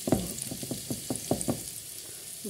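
Onion fries in oil in a pan just used for potatoes, giving a quiet, steady sizzle broken by a series of soft, regular knocks and scrapes from stirring.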